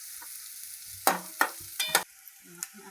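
Onions frying in a pan, mostly a quiet background sizzle punctuated by four or five sharp spatula scrapes and knocks against the pan in quick succession.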